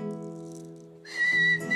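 A steady tonal hum gives way to a shrill, wavering whistle, close and fairly loud, lasting under a second before breaking off.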